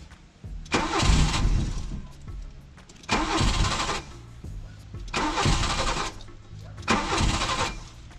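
A Nissan Micra K11 is being serviced for a fuel filter change, and its engine is cranked four times. Each attempt catches briefly with a rough mid-pitched roar lasting about a second, then dies away, with short quiet pauses between the tries.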